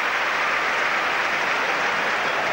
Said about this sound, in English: the crowd are buzzing here at Old Trafford